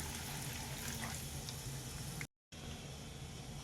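Mustard seeds, cumin, urad and chana dal and asafoetida sizzle steadily in hot oil for a Kabul chana usli tempering, a continuous close crackle with a brief gap of silence partway through.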